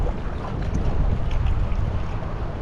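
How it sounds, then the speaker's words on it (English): Strong wind buffets the microphone on an exposed fishing bank during a big storm, a loud, steady broadband roar with gusty surges and no talking. "I'm sure you can barely hear me with all the wind."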